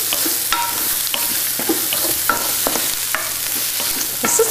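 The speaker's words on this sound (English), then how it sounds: "To that, add the apples and the minced onion. On a nice high heat, saute that." Apples and minced onion sauté over high heat in a pan, a steady loud sizzle of frying punctuated by repeated scraping stirs every half second or so, close and continuous with no voices.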